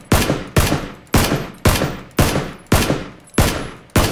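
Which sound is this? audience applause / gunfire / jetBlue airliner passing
gunfire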